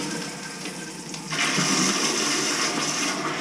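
A backed-up toilet being cleared with an auger flushes with a sudden loud rush of water that builds and then holds as a strong, close gush until the end.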